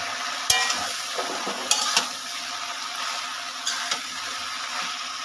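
Washed water lily stems being stirred in an uncovered pan, giving a steady broadband sizzle with a few sharp scrapes and clinks of the spatula, close by and without talk.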